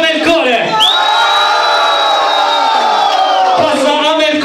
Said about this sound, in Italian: Un urlo per Amelcore